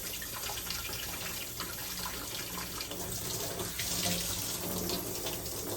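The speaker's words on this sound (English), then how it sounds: "what I do is I like to spray the water" Steady water spraying and splashing for hydrographic dipping, a continuous hiss with no pauses, close by and fairly loud.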